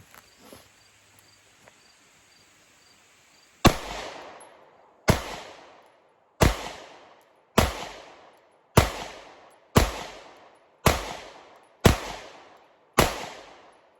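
A 1911 pistol fired at a range, nine sharp, loud shots at a steady pace of roughly one per second, each followed by a short echoing decay, after a few seconds of faint handling sounds.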